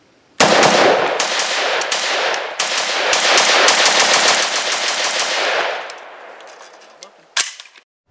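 A CZ Bren 2 carbine fires a rapid, sustained burst of close, loud gunshots that cracks on for several seconds, then a single sharp shot follows near the end, with no talking.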